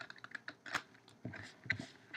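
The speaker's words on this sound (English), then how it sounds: "I'm going to give it a quick shuffle" A tarot card deck being given a quick shuffle close by, with soft irregular clicks and riffles of cards in short bursts and no one talking.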